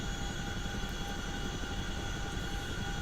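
A Chinook helicopter in a flight simulator gives off a steady, dense rotor and engine drone that holds at an even level throughout, with no voices over it.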